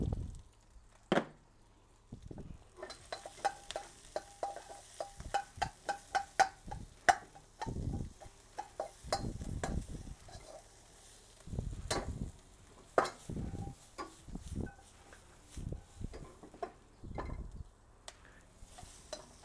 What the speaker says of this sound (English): in go the onions, that's smoking again